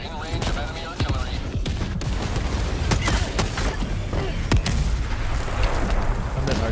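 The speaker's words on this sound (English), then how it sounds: "I'm getting artilleryed right now" Artillery barrage in the video game Helldivers 2, with repeated heavy booms and cracking blasts over a dense, rumbling battle din, loud and continuous.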